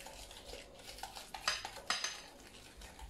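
Ghee and powdered sugar are mixed by hand in a bowl for a ghee cake, with light scraping, a few soft clinks of a utensil against the bowl, and quiet background hiss.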